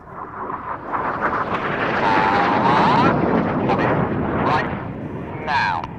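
A Red Arrows BAE Hawk jet roars past at an air display, its broad rushing thunder swelling and holding for several seconds, with a high whine on top and voices faintly heard beneath.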